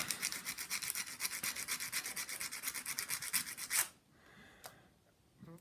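Rapid, steady scratchy rubbing strokes of sanding on a small hard rear wheel rim of a scale model, stopping abruptly, followed by a couple of faint brief scrapes.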